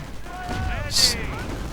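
Rifle fire and bursting rifle grenades aimed at German troops in a WWII strategy video game, with a sharp, loud blast near the middle of the short span and someone commentating over it.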